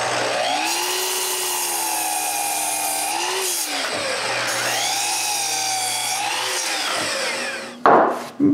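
Oak pieces, already ripped to size, having their round ends sawn off, giving a steady, loud, continuous cutting whine with pitch sweeps in two long passes, then a brief louder clatter near the end.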